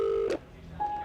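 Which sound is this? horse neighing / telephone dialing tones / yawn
telephone dialing tones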